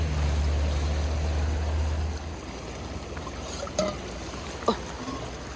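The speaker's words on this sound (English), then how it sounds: "this is one of the cleanest creeks. And we've been told to fill up the water bottles here" Water rushing and gurgling as a bottle is filled in the clear, clean Monkey Creek in New Zealand's South Island, with a steady broad flow and a couple of brief splashy knocks near the end.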